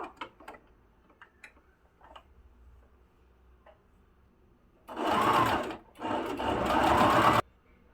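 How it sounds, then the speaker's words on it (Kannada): A sewing machine stitches a folded fabric bag for holding sesame-jaggery sweets, running in two loud bursts of rapid mechanical whirring separated by a brief pause, after soft handling clicks and taps of cloth. "ಹೀಗೆ ಫೋಲ್ಡ್ ಮಾಡಿಕೊಂಡು ಸ್ಟಿಚ್ ಹಾಕ್ಕೋಬೇಕು"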